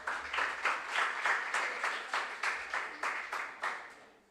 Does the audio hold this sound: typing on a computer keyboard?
no